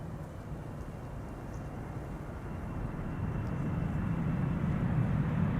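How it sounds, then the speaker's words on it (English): A KLM Boeing 777-300 airliner arriving at Amsterdam Schiphol from Sao Paulo, crabbing on approach, makes a steady, broad engine roar that swells slowly as it draws nearer, with no one talking. "777-300 arriving from Sao Paulo."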